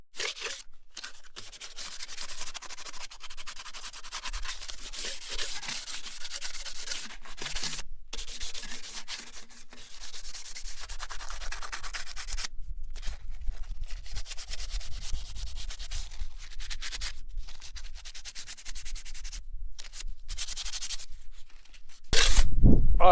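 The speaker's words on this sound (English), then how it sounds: "One more time with the sandpaper, just so I can get like the smoothest surface possible, so we can get a good seal." Sandpaper rubs steadily across Chevy 350 Vortec 5.7 cylinder heads in long, continuous strokes, a dry gritty scratching with brief pauses between passes. Close and moderately loud, with no voices.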